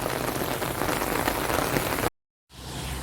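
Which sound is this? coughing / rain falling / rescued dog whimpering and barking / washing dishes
rain falling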